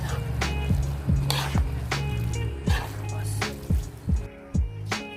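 Marinated chicken frying in a pan for a carbonara chicken plate, with a soft sizzle broken by repeated light knocks and scrapes of a utensil in a loose rhythm.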